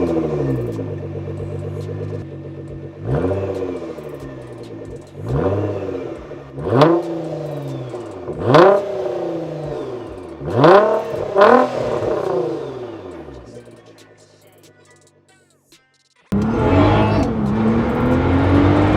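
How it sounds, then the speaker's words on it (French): Nissan GT-R with 550 hp on a road test, accelerating hard: a loud engine surges up through repeated sharp rising revs with shifts between them, then fades to near quiet before roaring back in close. "Donc on est parti pour l'essai routier de la Nissan GTR."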